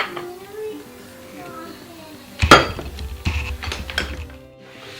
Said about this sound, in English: we're gonna put the lid on